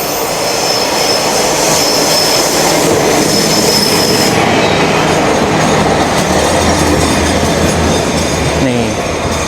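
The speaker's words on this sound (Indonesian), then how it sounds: "Jadi kereta di pedesaan Jepang itu ya kecil banget lur" A small single-car rural train in Japan rumbles past close by, loud and steady, with wheel squeal and rail noise building and easing, and no talking.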